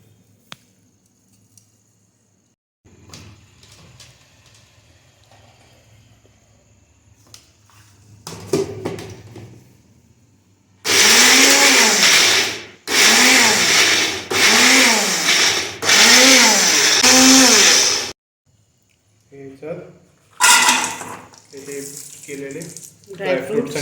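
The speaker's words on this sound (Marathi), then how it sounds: "ते मखाने आणि ओट्स बारीक करून घेऊया" A kitchen blender grinds makhana and oats in several loud bursts separated by short pauses, with quieter handling noises and a voice around the grinding.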